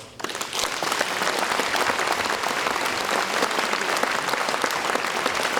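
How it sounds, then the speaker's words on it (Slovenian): Concert audience at a Christmas and New Year brass band performance in Hrastnik breaks into loud, sustained applause, dense clapping from many hands that rises quickly and holds steady. "jaz mislim, da se zaslužijo en velik aplavz"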